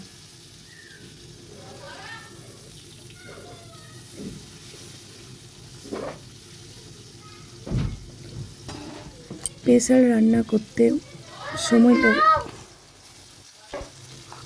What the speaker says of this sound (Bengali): আরেকটু আলু ভাজা বাকি আছে সেগুলোও ভেজে নেব